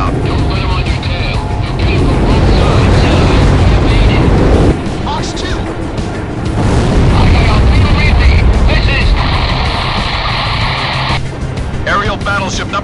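Heavy rumbling blasts and roaring fire from a battleship exploding and sinking in the aerial combat game Ace Combat 6, loud and sustained with surges, under radio-style voice chatter.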